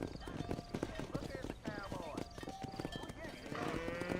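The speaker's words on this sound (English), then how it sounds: "Herd the cows down the road." A cattle herd is driven down a dirt road in Red Dead Redemption, with busy clip-clopping hooves from horses and cattle, occasional animal calls, and other game sounds layered over it.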